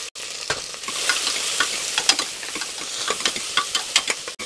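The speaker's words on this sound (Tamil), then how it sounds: "வெங்காயம் ஓரளவுக்கு வதங்கினா போதும், அது பிங்க் கலர் வரும் இல்லையா அந்த அளவுக்கு வதங்கினா போதும்." Sliced onions sautéing in a pan with cloves and green chillies for a potato peas gravy, a steady close sizzle with frequent stirring scrapes and ticks throughout.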